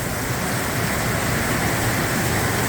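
Rain falling on a sheep farm in late August, a steady even hiss of broadband patter that stays constant and fairly loud from start to end, with no voices.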